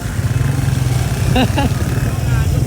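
A motorcycle engine idles loudly and close with a steady, throbbing putter, and a brief voice cuts in partway through.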